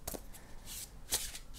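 Oracle cards being shuffled by hand, giving close, soft papery riffles and slaps in several quick bursts.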